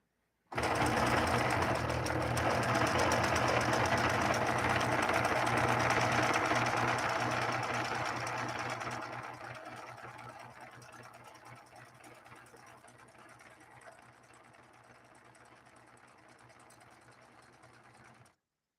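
A Singer 9410 sewing machine stitches a decorative eyebrow pattern, its motor whirring steadily and loudly for several seconds before slowing and fading into a quieter hum toward the end.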